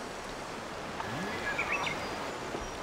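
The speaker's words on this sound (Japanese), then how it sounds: "あ、野鳥の声が聞こえますよ。" Wild birds call with a few high chirps and a short trill, heard faintly over the steady rush of a mountain river beside a remote hot spring.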